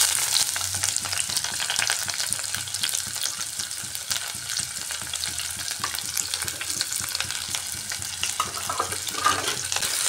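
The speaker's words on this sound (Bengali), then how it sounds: "দিয়ে দিচ্ছি তেজপাতা, আর দিচ্ছি এখানে কুচিয়ে রাখা পেঁয়াজ।" Chopped onion and bay leaves frying in a pan for a chicken chickpea ghugni, giving a steady close sizzle with faint stirring scrapes throughout and no talking.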